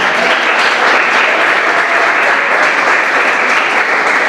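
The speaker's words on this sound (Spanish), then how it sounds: "Y el pueblo de Dios da aplausos al Rey que permanece." Church congregation at a Sunday service bursts into dense, loud, sustained applause, a steady wash of many hands clapping at once with no letup.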